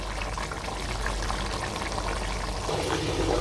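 Chicken simmers uncovered over full heat for biryani, its liquid bubbling and sizzling in a steady dense hiss throughout, close and fairly loud with no talk.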